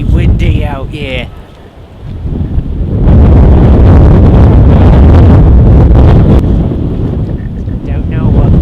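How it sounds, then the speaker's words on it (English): Strong wind roars and buffets the microphone in heavy gusts, with a brief voice-like sound at the start. "it's bloody windy out here."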